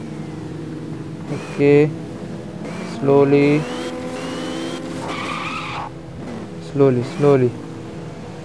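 Car driving and skidding in the video game GNO while being parked, with tyre squeals in short bursts over a steady engine drone, and someone talking over it.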